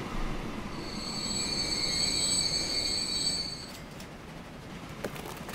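A freight train running in the video game Transport Fever rolls past with a loud rumble and high, sustained wheel squeals that fade after a few seconds, leaving a lower, quieter rolling noise.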